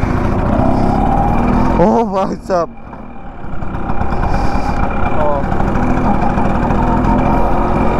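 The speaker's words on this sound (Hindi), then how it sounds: "अभी मैं फर्स्ट टाइम चलाने जा रहा हूँ स्कूटर, कोको का स्कूटर।" An old LML Vespa scooter engine runs with a loud, steady, close-up mechanical rumble that lasts throughout, and a man calls out briefly partway through.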